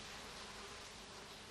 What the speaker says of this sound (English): The overripe berries are particularly attractive to insects such as wasps.